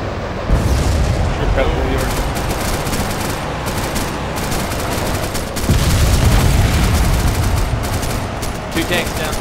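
A tank is hit and blows up during an armored column ambush in ArmA 2 Operation Arrowhead, with loud booming blasts and crackling gunfire layered through a sustained, heavy battle din.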